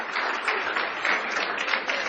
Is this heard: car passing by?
no